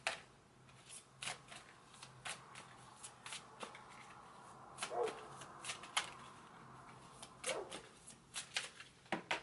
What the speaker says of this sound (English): I'm just going to shuffle this real quick